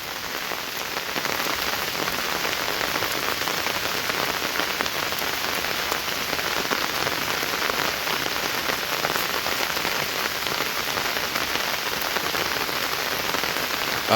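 Heavy monsoon rain pours down steadily in a riverside village in Bangladesh, a dense, even roar of drops on surfaces that continues unbroken with no voices.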